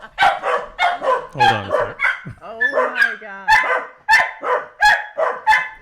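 Dogs bark and yip in repeated bursts throughout, close and fairly loud, with people talking over them.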